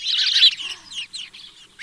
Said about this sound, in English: Now these are the birds you hear in the little bushes and hedgerows.